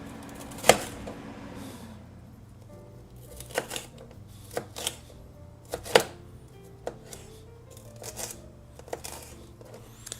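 Onions and pepper being chopped with a knife on a cutting board, a series of sharp, irregular close knocks spaced over several seconds, with quiet room sound between strokes.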